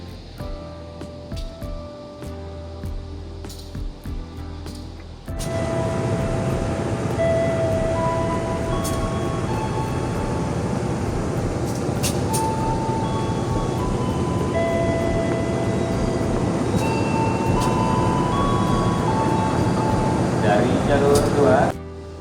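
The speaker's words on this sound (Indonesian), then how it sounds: "kereta api Kuto Jaya Selatan akan diberangkatkan kembali dari stasiun Tasikmalaya tepat pukul 23:28 menit" Kutojaya Selatan passenger train pulling out of Tasikmalaya station at night: a loud, steady rumble of wheels and engine rising after a quieter start, continuous and close, with occasional squeals and rattles over the running noise.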